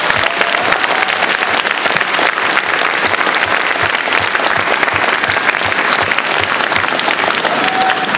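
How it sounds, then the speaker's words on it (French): A large audience claps loudly and continuously at a science-fiction festival awards ceremony, a dense, even wash of applause that holds steady with no talking over it. "on peut les applaudir je pense."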